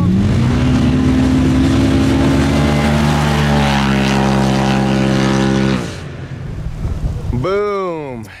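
A Pro R side-by-side races down a drag strip, its engine roaring loud and close in a sustained, strained drone that climbs slowly in pitch, then cuts off before a fresh rev screams rapidly upward.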